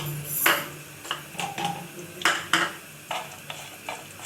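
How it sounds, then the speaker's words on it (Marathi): Whole spices frying in hot ghee in a pan, a soft steady sizzle under a series of bright clinks and scrapes as a spoon stirs against the metal, close by, with no voices. "आता या पॅन मध्ये मगाशी जे खडे मसाले घेतलेले आहे ते टाकायचे आहेत"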